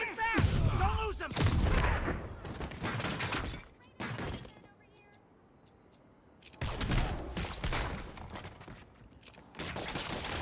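Bursts of gunfire and a grenade blast from the Spider-Man game, loud combat noise in two dense clusters with a quieter gap between, voices mixed in around the shots.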